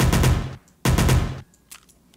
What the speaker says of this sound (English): we're going to try out the Heckler & Koch UMP.